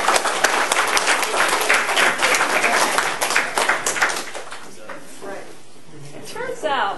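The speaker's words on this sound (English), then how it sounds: "let's give these folks a round of applause" Audience applause for graduating students at a computer science colloquium, full and steady for about four seconds, then thinning out and fading to scattered claps as a voice starts speaking.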